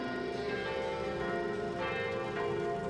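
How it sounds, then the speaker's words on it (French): Church bells ring continuously with rich, overlapping tones at a 1995 car rally, steady and fairly loud throughout, with no voices. "Les cloches sonnent"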